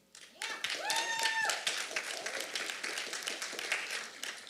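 An audience at a panel discussion claps for a speaker. Scattered applause swells quickly and then thins out into separate claps, with a few voices mixed in.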